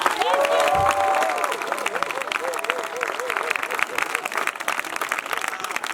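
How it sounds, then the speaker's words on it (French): A church congregation applauds in a steady, dense wash of clapping that fills the whole stretch, with a voice briefly audible at the start. "Acclamons la parole de Dieu."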